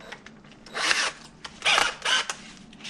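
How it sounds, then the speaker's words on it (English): Wire wheel on a small power tool scrubbing rust off a front brake part from a 2012 Hyundai Tucson at a bench, in three or four short bursts of harsh, raspy grinding with brief pauses between. "Get you a wire wheel."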